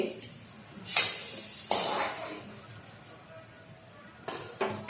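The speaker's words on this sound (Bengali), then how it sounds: "এখানে চিনিটা ভেজে নেব" Sugar frying in a pan while shrimp curd curry (doi chingri) is prepared, giving a steady sizzle with scraping stirs and a few metallic clinks of utensil against pan, close and moderately loud.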